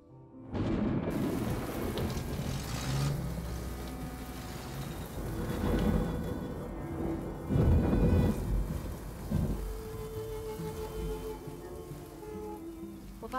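Heavy rain pours steadily with rolling thunder swelling and fading through it, a dense, loud storm wash with no voices.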